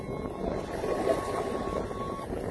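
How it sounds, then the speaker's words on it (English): A boat's kicker motor runs with a steady, droning engine hum, fairly loud and close, mixed with some wind noise and no talking. "Then we'll try the kicker motor."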